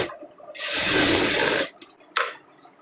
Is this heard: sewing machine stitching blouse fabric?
yes